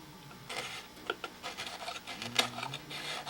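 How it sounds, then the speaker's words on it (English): A sanding block is rubbed by hand over a wooden block during a repair, making close, repeated rasping strokes in an uneven rhythm with no voices. "Do the last little bit with some kind of a sanding block."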